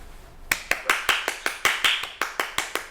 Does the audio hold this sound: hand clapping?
yes